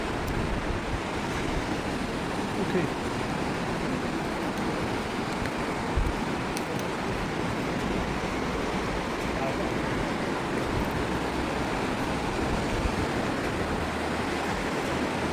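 The Niagara River's rushing water roars in a steady, unbroken wash of noise, loud and close, with no voices over it.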